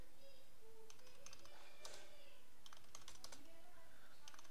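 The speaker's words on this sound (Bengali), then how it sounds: "আমি টাইপ করছি" Typing on a computer keyboard, quick bursts of crisp key taps with short pauses between runs, close and fairly quiet over a faint steady background hiss.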